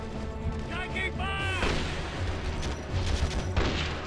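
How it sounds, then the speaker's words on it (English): Heavy gunfire and explosive booms in the video game Conflict: Desert Storm, loud bursts and crashes scattered over four seconds, with voices talking over parts of it. "we may be taking fire"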